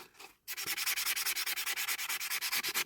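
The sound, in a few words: sanding a diecast Corgi toy casting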